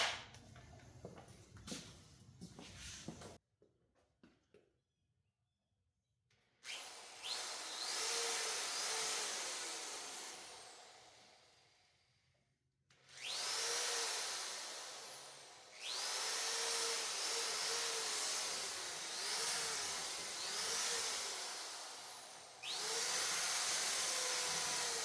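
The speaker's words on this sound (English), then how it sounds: "So I'm gonna do is probably drill a couple of holes" A power drill bores a couple of holes to mount a bungee hook, with several loud whining bursts that rise in pitch, separated by short pauses and quieter gaps.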